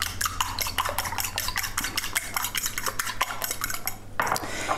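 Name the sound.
beating eggs in a bowl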